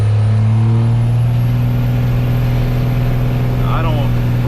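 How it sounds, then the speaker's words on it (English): Steady, droning diesel engine exhaust from a 12-valve diesel truck with an aftermarket exhaust rumbles from inside while driving, windows down, with a deep constant tone and road noise throughout. "This exhaust level is perfectly fine."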